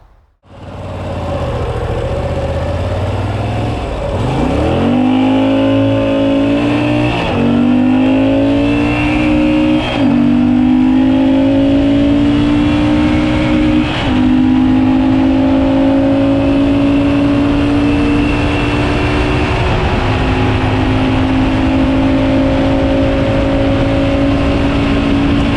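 Moto Guzzi V7 Stone motorcycle engine starting up and running, loud and close, with several throttle blips rising in pitch before settling into a steady idle.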